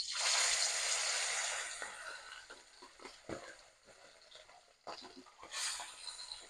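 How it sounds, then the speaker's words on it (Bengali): River fish fry in mustard oil in a hot wok, first with a strong bright hiss that fades into softer crackling and intermittent spatters, with a few louder pops near the end. "কড়াই গরম হয়ে গেছে, সরষের তেল দিয়ে দিলাম"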